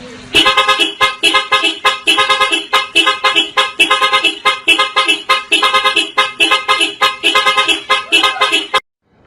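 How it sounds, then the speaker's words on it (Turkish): A loud car horn honks in a long series of short, rhythmic blasts, pausing briefly between bursts, then cuts off abruptly near the end. "Direkt kornaya basıyoruz. Çalıyorum."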